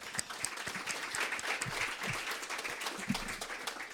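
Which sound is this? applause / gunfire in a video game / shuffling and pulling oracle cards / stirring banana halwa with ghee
applause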